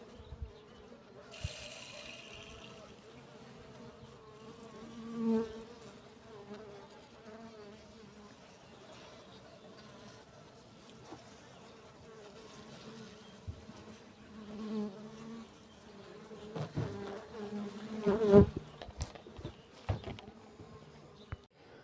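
Honey bees buzz in an opened hive during spring colony work, a steady close drone that swells and fades, with light scraping and knocking of hive parts here and there.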